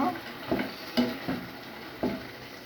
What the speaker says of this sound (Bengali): একসাথে কষিয়ে নেব এটাকে এখন নেড়ে চলে দেব